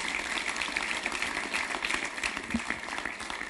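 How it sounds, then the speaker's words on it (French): An audience at a climate conference applauds steadily and densely, a sustained wash of many hands clapping with no one speaking over it. "Déjà, oui, effectivement, on peut les applaudir"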